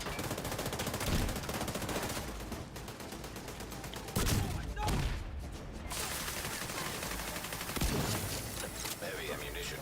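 Gunfire in The Division 2 during a HollyWood global event, a dense continuous stream of rapid shots with heavier bursts and impacts near 1, 4 and 8 seconds, all at a steady loud level.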